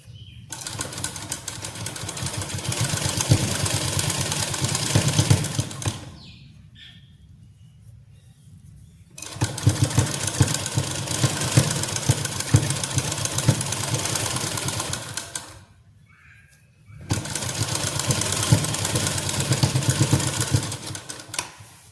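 Domestic sewing machine stitching lace onto a shirt (kameez) runs in three long steady bursts of mechanical whirring, separated by short pauses, with no talk.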